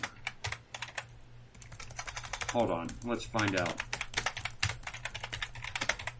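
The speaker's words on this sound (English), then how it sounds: "I'm typing it in now" Quick bursts of close typing on a computer keyboard, clattering keystrokes in irregular runs, with a voice speaking briefly in the middle.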